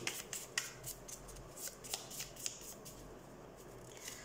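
Tarot cards being shuffled by hand during a weekly reading, a close, quiet run of riffling flicks and soft slaps in an irregular rhythm, with no talking over it.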